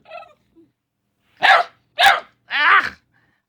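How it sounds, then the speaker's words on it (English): A pet dog barks three times in close succession at a loud, near level, after a faint shorter yelp at the start, with no talk over it. "What are you barking at?"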